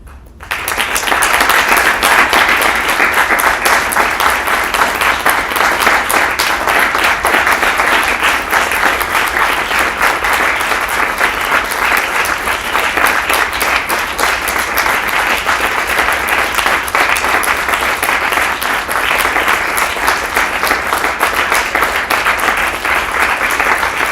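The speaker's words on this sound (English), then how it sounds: "let's show our appreciation with a round of applause" An audience at the 51st Okuma Shigenobu Cup gives a long, loud round of applause. The dense clapping stays steady and unbroken for over twenty seconds.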